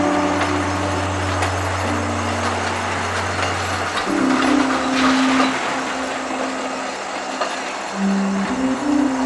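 Southern 4501 steam train rolls past with continuous rumbling and rail clatter, low droning tones shifting partway through, and a sustained horn-like tone rising near the end.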